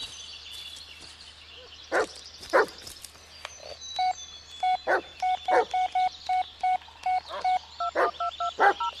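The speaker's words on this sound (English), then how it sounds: "He's just barking at me" A dog barks a couple of sharp times early on, and a few more barks come later, while a run of electronic telephone keypad tones is also heard.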